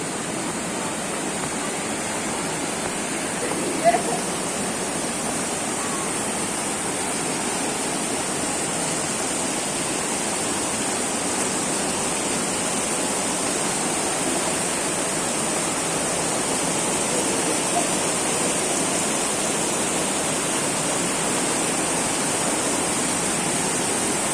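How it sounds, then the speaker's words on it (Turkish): A waterfall pours inside Kaklık cave in Denizli, a steady, full rushing roar of falling water that fills the whole stretch without a break, with one brief knock early on. "Şelale akıyor resmen içeride."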